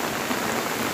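Heavy monsoon rain pouring down in Konkan, a dense, loud, continuous hiss of drops striking surfaces.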